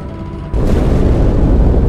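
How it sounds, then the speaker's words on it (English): A sudden deep boom in the Halo 2 game erupts from inside a ship, a sharp onset followed by a loud, sustained low rumble that fills the rest of the moment with no voices. "That explosion came from inside the Athens, same as the Malta."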